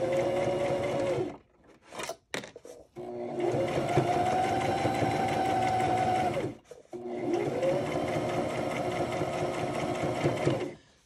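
A sewing machine stitches fabric for a handmade journal cover in three long, steady runs, with short pauses and handling noises between them; the motor's whir is loud and close, and no one speaks over it.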